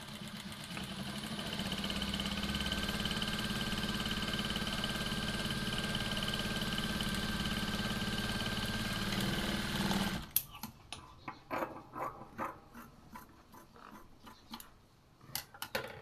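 An electric sewing machine stitches a sleeve for a lined katori blouse, running as a steady, even whir for about ten seconds, then stopping; a string of light clicks and taps follows as the fabric is handled.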